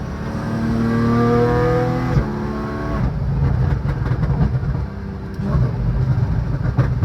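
A 2014 Porsche Cayman's engine revs up hard under acceleration, pitch climbing steadily before a gear change, then settles into a rougher, lower drone with road noise, loud and close.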